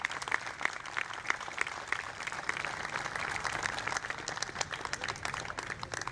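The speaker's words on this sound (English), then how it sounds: "Now please give a huge round of applause for all the awardees once again." Sustained applause for the awardees at an Independence Day celebration at a government medical college and hospital, dense clapping from a crowd at moderate distance, continuous and even throughout with few voices.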